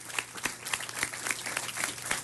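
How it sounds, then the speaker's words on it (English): A small crowd claps steadily in scattered, overlapping hand claps at moderate volume, with no voices standing out. "Give that a big round of applause"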